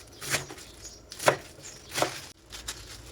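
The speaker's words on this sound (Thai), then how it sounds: "เราหั่นไปเลยนะคะ ให้ครบหัวเลยค่ะ" A knife chops napa cabbage for kimchi, striking a cutting board four times in an uneven rhythm. The cuts are crisp and close, with no voices.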